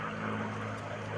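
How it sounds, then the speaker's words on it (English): Steady, loud drone of a P-51D Mustang's piston engine and propeller at an open house air show, a continuous low rumble with a strong tonal hum running unbroken throughout. "So awesome to hear everybody listening so carefully to this engine sound."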